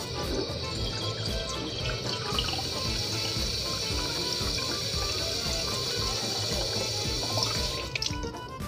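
Water pours steadily into a glass bottle, making a continuous rushing, gurgling sound. Toward the end the flow cuts off with a few clinks and splashes.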